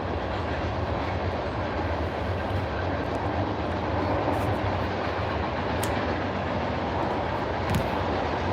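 A train rumbling past nearby, a loud continuous broadband roar that stays steady throughout with no voices.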